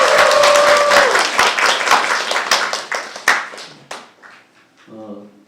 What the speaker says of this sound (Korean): 다시 한번 큰 박수로 수고해 주십니다.